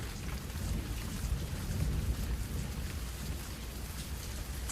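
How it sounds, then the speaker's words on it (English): Steady rain falls in a dense, even hiss with a low rumbling undertone, moderately quiet and continuous, with no voices. "It begins to rain."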